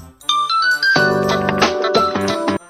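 A phone ringtone plays a bright, tinkling jingle of rising chime notes, then fuller repeated musical tones for a couple of seconds.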